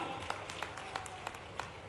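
A crowd claps at an outdoor political rally after a road-building announcement; a modest, somewhat distant patter with a few louder claps popping out at intervals, no talking over it.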